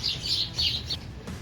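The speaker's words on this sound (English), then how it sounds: "I got some fighting birds." Squabbling birds chirp outdoors near a backyard smoker, giving several quick, bright bursts of high-pitched twittering over a low background rumble, then quieting.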